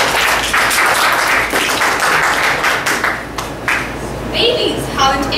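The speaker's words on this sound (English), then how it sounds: "Please give a round of applause." An audience applauds a youth leader contestant at a haircut-and-shave themed event, with sustained loud clapping that thins out and fades toward the end.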